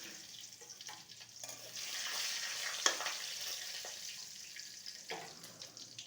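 Assorted spices sizzle in mustard oil inside a kadai wok, a soft, continuous frying hiss with occasional stirring scrapes and one sharp knock, fairly quiet and without voices.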